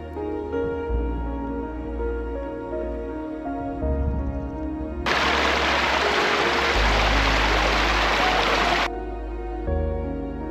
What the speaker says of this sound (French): Franchissement du ruisseau du bois de Débès.